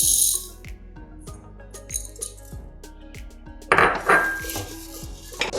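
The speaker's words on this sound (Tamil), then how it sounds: "இப்போ நம்ம கல்கண்டை சேர்த்துக்கலாம்." Hard chunks of rock sugar clink and rattle against a metal pot of cooked rice pongal, a scattered series of close, bright taps, then a louder burst of clattering near the end.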